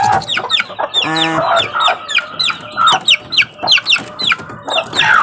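Chickens clucking close by around newly hatched chicks, with a rapid run of loud clucks and repeated short chirping calls, busy and continuous throughout.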